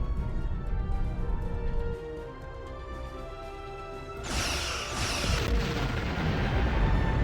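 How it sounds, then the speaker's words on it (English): Starship weapons open fire in the Star Trek Online space battle, with a layered barrage of booming blasts and crashing energy bursts that swells loudly after a steady rumbling backdrop. "Target that ship, and fire all weapons!"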